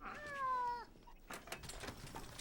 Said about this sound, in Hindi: बिल्ली को टेबल से नीचे उतारो।